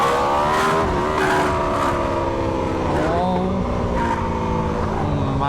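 A McLaren Elva sports car with an SC GP22 aftermarket exhaust revs and drones loudly through a throaty exhaust, pitch rising and falling as it accelerates and eases off.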